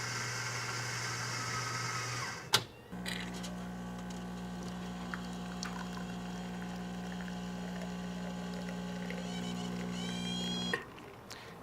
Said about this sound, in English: you press the button, and within about a minute, you get a true espresso with a crema on top